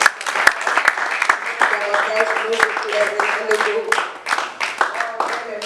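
Church congregation at a French-language service applauds and cheers, with dense steady clapping mixed with shouting voices throughout, close and loud.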